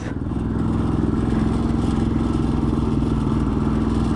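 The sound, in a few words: motorcycle struggling while climbing uphill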